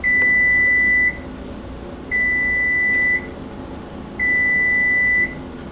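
A microwave oven beeps three times, each tone a long steady electronic note lasting about a second, evenly spaced and close against a faint kitchen hum.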